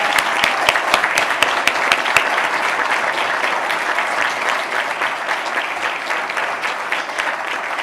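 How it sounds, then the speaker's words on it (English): Steady applause rises from the audience at a Humble ISD school board meeting as students, teachers and community members are recognized; the sharp claps are crisp and close at the start, then settle into an even, sustained round. "go ahead, give them a big round of applause"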